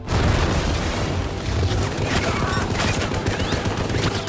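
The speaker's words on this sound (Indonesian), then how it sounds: "Tentara Amerika kemudian membalas tembakan." Dense gunfire and explosions in a war film battle scene with American soldiers returning fire, a loud continuous barrage of shots and booms with no pauses.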